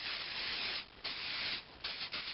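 Cleaner hisses from an aerosol can onto the honeycomb wafer of a mass air flow sensor from an Isuzu 2.6L 4ZE1 engine, in close, loud bursts with short breaks between sprays.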